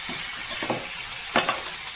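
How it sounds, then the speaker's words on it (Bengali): Boiled vegetables stir-fried in a pan, a soft continuous sizzle punctuated by a few louder scrapes of a spatula against the metal, close and without speech. "সিদ্ধ করা সবজিটাকে দিয়ে দিলাম। এবার এটাকে আমি কষবো।"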